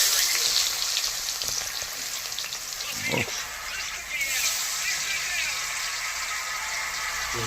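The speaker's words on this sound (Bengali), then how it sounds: "সুন্দর একদম গরম তেলে এবার একটা একটা করে মশলা যাচ্ছে" Whole spices dropped into hot oil for a spicy village chicken kosha, cooked in a mud house in winter, sizzling and crackling steadily and loudly throughout, with a brief clatter midway and voices talking underneath.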